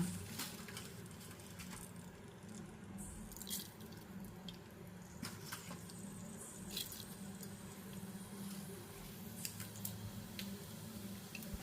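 Cumin and mustard seeds splutter in a little hot oil, making a steady sizzle dotted with quick, irregular pops and crackles that run on continuously at a close, moderate level.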